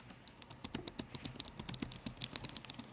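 Fingers type quickly on the optomechanical keyboard of an HP Omen 17 laptop, giving a dense run of crisp, close clicky keystrokes in an uneven rhythm with no voices.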